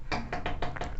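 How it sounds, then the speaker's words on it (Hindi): A bird taps on a window, five quick soft knocks within one second, close and clear over a low room hum. "चिड़िया जो है आके खटखटा रही है मेरे विंडो को"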